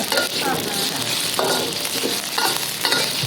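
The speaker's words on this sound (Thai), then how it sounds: "เราควรมาผัดกับน้ำมัน ให้มันเกรียมนิดนึง" Shiitake mushrooms fry in oil with a steady broadband sizzle, while a few bright stirring scrapes and faint pan clatter come through close by.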